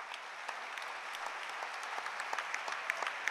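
An audience claps for a local community project team at a citizens' festival, a steady and moderately distant patter of many hands with no pauses.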